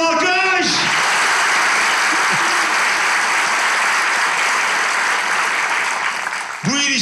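A studio audience at a Turkish talk show bursts into loud, enthusiastic applause that holds dense and steady for about six seconds, with speech briefly heard just before and as it fades.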